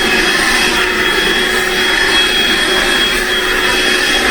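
A Makita 18V cyclonic stick vacuum, model DCL286, runs with a steady, loud motor whine and whoosh of airflow, holding constant throughout with no talking.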